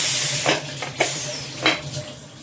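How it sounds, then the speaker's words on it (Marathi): Lid clatter and metallic clinks as a pressure cooker holding mushroom rice is handled and opened, over a steady background hiss of escaping steam. "कुकर झालेला आहे आता आपला."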